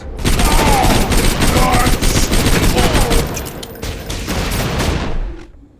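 Dense, continuous machine pistol fire from Borderlands 2 rattles on for several seconds with overlapping shots and booms, loud and close, tapering off at the end.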